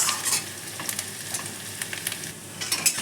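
Onions frying in oil over raised flame until reddish-brown, a soft continuous hiss with scattered light spatters and stirring scrapes, close and fairly quiet, no speech.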